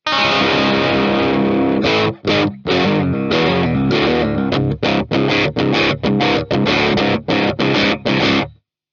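Electric guitar through a Coolmusic Kraken distortion pedal playing loud, gritty chords and choppy rhythmic stabs, ending abruptly with a stop into silence.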